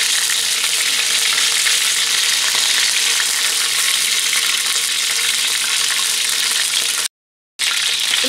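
Chicken thighs frying in a pan for fried rice with vegetables and egg, giving off a loud, dense, steady sizzle close up, broken by one brief silent gap near the end.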